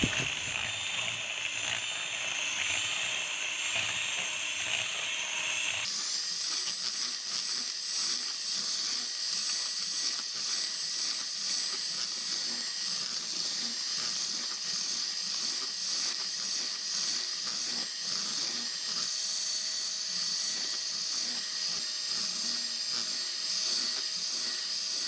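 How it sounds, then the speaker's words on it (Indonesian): An electric mixer at medium to high speed beats eggs and granulated sugar for strawberry lava brownie batter, a continuous close whirring buzz that grows louder and brighter partway through and then holds steady with no talk. "kemudian mixer menggunakan kecepatan sedang atau tinggi dan mixer hingga adonannya berwarna putih"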